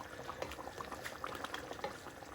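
Beef bhuna gosht sauce simmers and reduces in a pot, giving soft, irregular bubbling pops and a quiet sizzle throughout.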